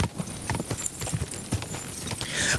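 Horse hooves clip-clopping in a video game, a steady run of hoofbeats repeating throughout, moderately loud with no talk over them.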